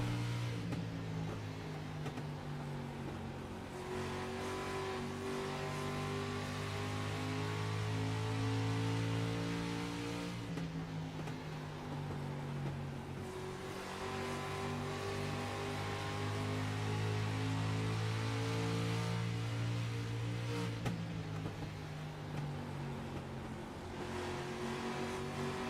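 Race car engine heard from inside the cockpit in the iRacing video game, a steady droning roar that climbs in pitch through the gears, drops sharply on each shift or braking, then winds up again, continuous and close.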